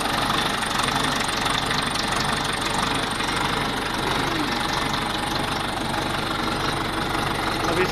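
An engine idles steadily after being started with a green push button, a continuous mid-pitched rumble with a faint knocking pulse running loud and unbroken throughout, with no voices over it.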